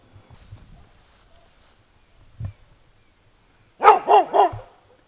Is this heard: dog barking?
yes